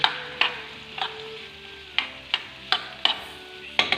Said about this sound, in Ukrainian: на вершковому маслі з додаванням олії обсмажуємо цибулю